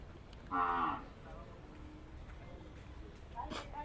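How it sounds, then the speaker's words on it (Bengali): A single loud, close moo from cattle at the Gabtoli livestock market in Dhaka, lasting under half a second, with quiet market ambience and someone talking afterward. "এই যে এখানে দেখতে পাচ্ছি কিছু গরু"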